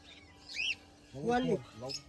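Budgerigars for sale at a Sunday morning bird market in Srirampur, short bright chirps sounding twice, nearby and moderately loud, with a voice talking over them.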